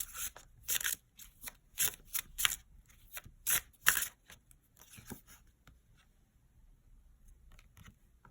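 Tarot cards being shuffled by hand, a run of crisp riffling and slapping bursts over the first four seconds, then softer, sparser card flicks trailing off toward quiet.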